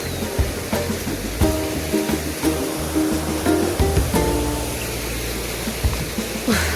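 A village river in the mountains rushes steadily as a broad, continuous roar of flowing water. Brief tonal sounds come and go over the top, and no voice is heard.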